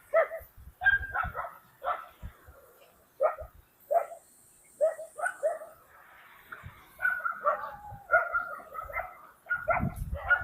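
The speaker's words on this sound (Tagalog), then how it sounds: "Kasama namin yung aso namin." A dog at a beach resort giving repeated short barks and yips in irregular bursts, close and fairly loud, with a few whimpering notes between them.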